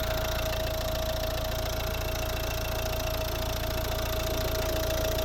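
Volvo V60 D2 from 2011 with its 1.6 diesel engine of Peugeot-Citroën origin idles steadily under the bonnet, a close, even low rumble with a constant hum and no talk over it.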